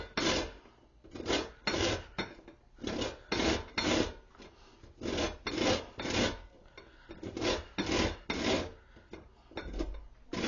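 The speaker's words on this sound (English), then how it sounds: "So we are going to go ahead and zest this up a little bit." A lemon is zested on a grater, producing a series of short rhythmic rasping scrapes, close and fairly quiet, repeating steadily with brief gaps between strokes.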